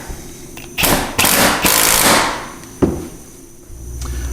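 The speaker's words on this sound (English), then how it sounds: "We'll utilize our 13mm socket onto our impact." An impact wrench with a 13mm socket tightens cab hardware on a CF Moto U10 Pro, giving several short loud hammering bursts close by, then a single sharp hit.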